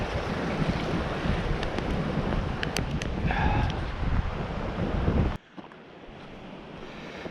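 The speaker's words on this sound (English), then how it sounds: "this is where a stream comes across pretty good" Water rushing loudly and continuously where a stream crosses a muddy woodland trail at Middle Creek, a steady broadband wash that drops to a quieter flow near the end, with no talking.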